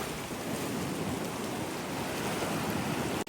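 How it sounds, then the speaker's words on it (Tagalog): Loud, continuous roar of heavy surf crashing nearby on a beach, with wind buffeting the microphone throughout and no pauses. "Malakas sa alon dito. Lakas ng alon, no?"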